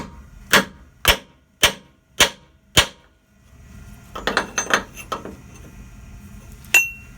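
A hammer striking a cold chisel set against a frame rivet, five sharp, evenly spaced metallic blows, then a cluster of quicker lighter clinks and one final ringing hit.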